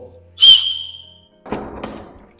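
One short, sharp, shrill blast from a small camping whistle on a compass bracelet close by, followed after a pause by soft rustling and a couple of light knocks.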